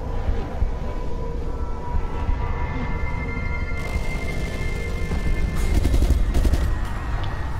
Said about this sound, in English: They both just got shot with an assault rifle.